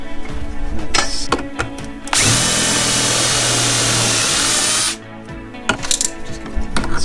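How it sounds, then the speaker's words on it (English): A power drill whirs loudly and steadily for about three seconds while boring a hole, between brief clicks and handling noises. "And you drill a hole."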